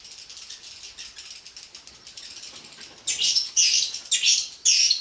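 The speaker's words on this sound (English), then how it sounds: "This screeching is characteristic for swifts, both in their colonies and while hunting for food on the wing." Indian swiftlets give harsh scolding screeches at a colony: soft rapid rattling chatter first, then four loud, close, grating screech bursts in quick succession.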